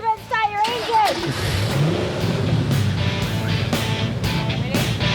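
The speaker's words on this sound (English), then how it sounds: "Gentlemen, start your engine." Mustang engines start up and rev at a hot rod show. After a brief voice at the start, a loud, sustained mechanical roar with surging revs fills the rest of the clip.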